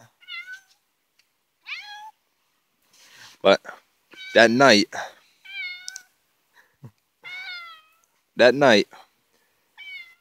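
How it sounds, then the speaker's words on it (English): A house cat meows several times in short, rising and falling cries, some drawn out, scattered between bursts of someone talking nearby. "Oh, there's my cat."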